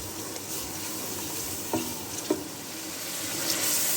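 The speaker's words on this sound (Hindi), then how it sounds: "इसको अच्छी तरह भूनूंगी मैं जब तक हमारे टमाटर नरम नहीं हो जाते" Masala of tomatoes, dry coriander and white cumin frying in a pan, giving a steady hiss and sizzle with a couple of soft clinks from stirring, close and alone without talk.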